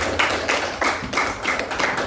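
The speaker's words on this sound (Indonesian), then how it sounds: "Silakan tepuk tangan dong untuk kelompok" An audience in a classroom claps for a student group after its presentation, with rhythmic, fairly close hand claps in uneven bursts.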